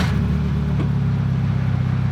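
Mazda Miata engine running rough, a steady low idle rumble with a brief blip near the start, close and continuous with no talk.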